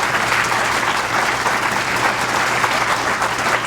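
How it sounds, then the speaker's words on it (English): Sustained, dense applause from a crowd at a political event in support of organized labor, loud and continuous throughout with no pause or talk over it. "Let's give labor a round of applause"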